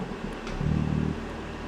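A deep exhaust burble from a BMW G80 M3 with the S58 turbo inline-six and its exhaust valves open rises briefly in a short rev, with a low rumbling tone and slight rasp.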